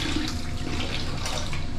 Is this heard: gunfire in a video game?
no